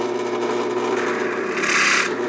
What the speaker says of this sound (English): So we'll turn the drill on now